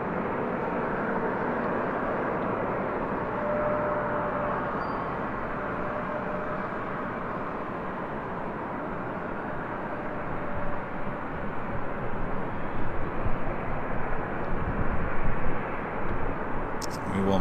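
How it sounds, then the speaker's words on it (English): A Southwest Airlines jet arrives on runway 24 left at Dallas Love Field, its steady broadband engine roar holding at a distance and swelling louder toward the end as it nears. "We do have the big Q heading here for a north side arrival on 24 left. It's the Southwest flight heading to Dallas Love Field."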